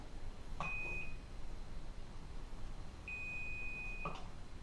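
Two electronic beeps from a stud finder held against a wall, each a steady high tone lasting about a second, sound a couple of seconds apart, with faint clicks at their starts and ends.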